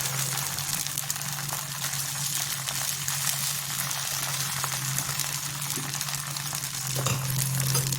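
Neer dosa batter cooking on a hot pan, a steady soft sizzle and hiss that holds evenly and close throughout, with a low hum underneath and no talking.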